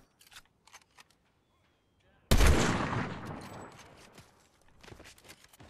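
A single loud, close gunshot in Fortnite cracks out partway through and rings into a long fading tail, preceded by scattered faint clicks and taps.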